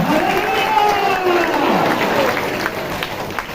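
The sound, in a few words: audience applause, clapping to thank God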